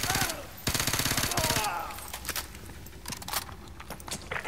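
Rapid automatic gunfire from a Call of Duty Modern Warfare 2 firefight, dense bursts of machine-gun shots up close, giving way to scattered shots and shouted voices.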